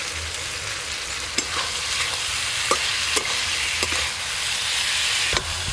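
Ridge gourd and pointed gourd fry in a pan with chilli powder, poppy seeds and a little sugar, a continuous sizzle broken by several sharp spatula scrapes and taps while stirring.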